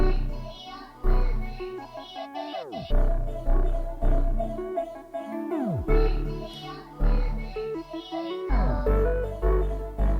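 A short music loop repeats about every three seconds. It has punchy low hits and tones that bend downward in pitch, and there is no talking.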